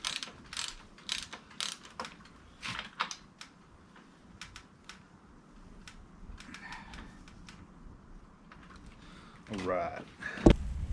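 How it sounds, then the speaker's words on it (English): A 3/8 ratchet with a 32 mm chamferless socket tightens a part on a Fox 36 fork, giving bursts of quick close clicking separated by pauses, ending in a louder metallic clatter. "we're going to need our 32 mil chamferless socket and 3/8 to tighten this down"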